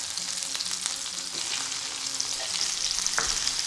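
Peppers dropped into a hot pan for a vegetarian Chinese stir fry, a bright continuous hissing sizzle with a few clicks and stirring knocks, close and steady with no talk.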